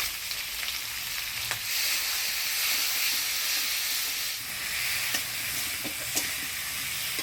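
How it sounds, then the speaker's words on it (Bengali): Potatoes and Malabar spinach stems frying in tempered oil, a steady bright sizzle throughout with occasional light clicks and scrapes from stirring, close and moderately loud. "আলুটা ফোরনের তেলে নাড়াচাড়া করে নিলাম পুঁয়ের ডাটাগুলো দিয়ে দিব"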